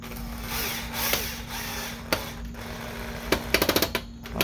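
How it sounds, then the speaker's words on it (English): A small screwdriver with a worn T9 bit drives screws into an Xbox One S motherboard, giving a steady scraping hum with scattered clicks and a quick rattling burst of ticks near the end. "we're going to go ahead and put in the 4 T9 screws for the motherboard"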